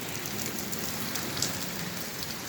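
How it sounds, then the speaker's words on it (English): Steady rain falls in a dense, even patter of drops on surfaces, constant and close throughout with no talk. "Did somebody say rain?"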